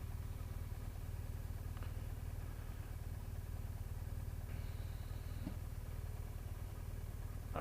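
A motorcycle engine idles steadily at traffic lights after slowing to a halt, a low continuous drone with a faint brief whine partway through, no voices.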